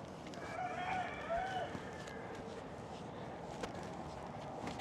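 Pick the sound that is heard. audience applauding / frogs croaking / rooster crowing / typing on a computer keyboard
rooster crowing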